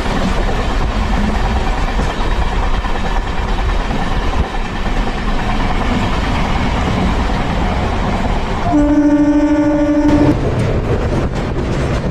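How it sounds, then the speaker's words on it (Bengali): A steady, loud rumble of the Tamralipta Express departing Howrah station rolls on continuously, with a sustained horn-like tone sounding briefly near the end. "একদম ডট টাইমে ট্রেন হাওড়া ছেড়ে বেরোচ্ছে"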